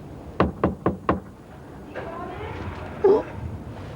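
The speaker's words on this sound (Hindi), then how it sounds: "मैं फिर खटखटाता हूँ।" Four quick, firm knocks rap on a door at close range, followed by quieter room sound with a brief murmur of voices.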